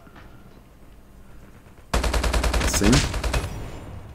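HBRa3 rifle firing in Call of Duty: Mobile, a loud, rapid automatic burst lasting about a second and a half that starts abruptly after a quiet stretch, with a brief spoken word nearby.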